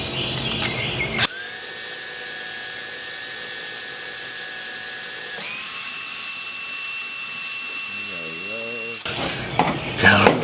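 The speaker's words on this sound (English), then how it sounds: "So easy to drill." An electric drill whines steadily, its pitch shifting as it bores into PVC plastic, with brief handling noise at the start and end.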